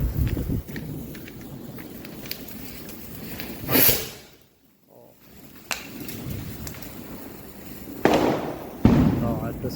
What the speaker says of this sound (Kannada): ಇವಾಗ ಹ್ಯಾಪಿ ಫೌಂಟೇನ್ ಇಡ್ತಾ ಇದ್ದೀವಿ.